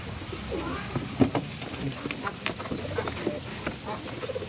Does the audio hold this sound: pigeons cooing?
yes